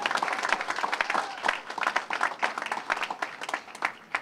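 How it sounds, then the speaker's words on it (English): Audience applause at an airport press conference welcoming a Lufthansa flight, a steady round of clapping from a small crowd lasting several seconds, with a few individual claps standing out. "Let's give Chris and his team a big round of applause"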